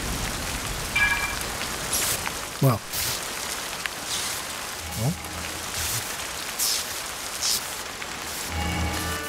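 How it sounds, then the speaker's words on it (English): Steady rain pattering outdoors in Zelda: Tears of the Kingdom, a continuous soft hiss with brief game effects and someone speaking a word over it. "I like that I kept that it's raining outside."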